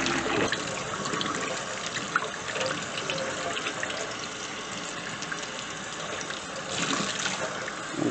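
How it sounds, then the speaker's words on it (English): Steady running water pours and splashes continuously over a harvested luffa sponge being rinsed, with soft gurgles throughout. "And now I'm going to rinse this very well."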